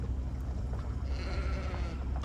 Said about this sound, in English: we've got the local sheep keeping us company in this front paddocked area